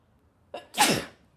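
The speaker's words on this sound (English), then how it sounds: "I'm going to sneeze." A single close human sneeze, with a short sharp intake of breath followed by a loud explosive burst, in an otherwise quiet room.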